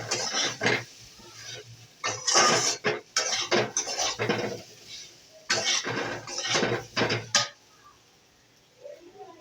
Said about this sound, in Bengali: এবার আমি নাড়ছি।